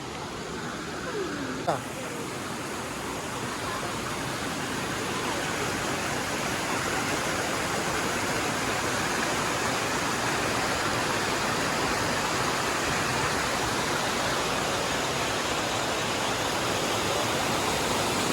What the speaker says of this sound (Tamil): அந்த பேக்ரவுண்டு அருவியோட சத்தம்